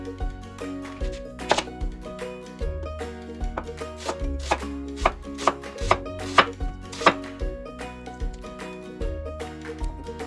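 A knife slicing a peeled onion into slices on a cutting board, a steady series of crisp chopping thunks at an even rhythm, close and clear with no voices.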